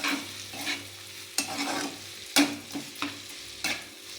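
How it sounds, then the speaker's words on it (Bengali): Spices being stirred together in a pan while cooking a vegetarian paneer-stuffed pointed gourd dorma: a low frying sizzle under repeated scraping strokes of a spoon against the pan, about five distinct stirs, close and clear with no voices. "ভালো করে মশলাগুলোকে সব কিছু একসাথে মিক্স করে দেব"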